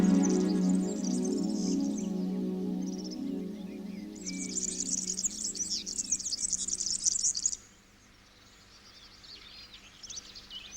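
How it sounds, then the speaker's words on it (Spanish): Bird calls in Doñana, attributed to a Spanish imperial eagle: bright chattering and chirping phrases over a steady insect-like background, strongest midway, then a quieter stretch near the end. "el águila imperial"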